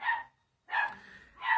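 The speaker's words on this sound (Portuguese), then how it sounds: "Os cachorros estão latindo, que me perdoe, tá?" Dogs bark in two loud bursts separated by a brief silence, a third bark starting at the end, with no talking over them.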